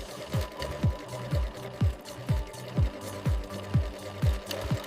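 A sewing machine stitches a soft elastic waistband onto banana fiber underwear in an underwear factory. It runs in short bursts about twice a second, each with a low whirring pulse, and no one speaks.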